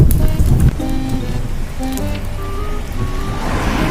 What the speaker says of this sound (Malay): Uish, hujan non-stop dari pagi ni.